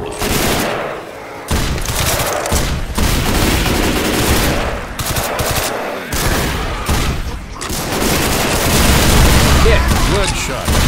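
Gunfire in the Skylanders movie: dense, sustained bursts of rapid shots and booms, loud and continuous, with voices mixed in.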